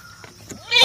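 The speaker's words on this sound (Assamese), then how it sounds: "ছাগলীজনীৰ পোৱালি 2টা মতা নাই তাই মাতিছে" A village goat bleats once in a short, loud call rising at the very end, after a quiet stretch with faint background sounds.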